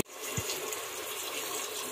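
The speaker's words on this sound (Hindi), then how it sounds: "तो ये एक गिलास मैंने इसके अंदर पानी डाल दिया है" Water from a glass pours into browned mutton in a pressure cooker, a soft, steady splash and trickle that lasts about two seconds.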